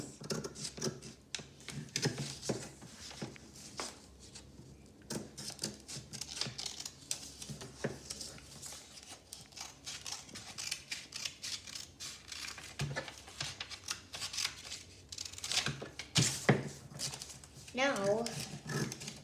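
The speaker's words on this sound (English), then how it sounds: "From that snip, cut to the lines." Scissors snip through paper along drawn lines for a kids' fishbowl craft, giving repeated short cutting crackles close by under steady talking.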